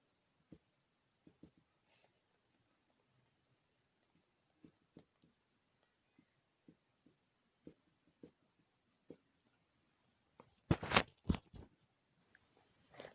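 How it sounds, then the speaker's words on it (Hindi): A pen writing math working on paper in a quiet room, sparse faint scratches and taps scattered across the span, ending in a short louder burst of scratchy strokes. "तो हम यहाँ लिख लेते हैं"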